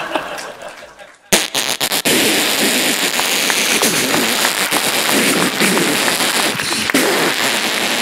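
A comedian on stage vocally imitates festival fireworks and firecrackers, a sudden loud burst followed by a dense, continuous crackle of pops and bangs that stays loud until the end.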